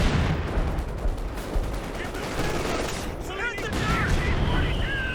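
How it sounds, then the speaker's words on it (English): Light artillery barrage in Company of Heroes 2, a loud continuous rumble of explosions and gunfire filling the whole stretch, with a faint voice talking underneath. "light arty barrage on the top side"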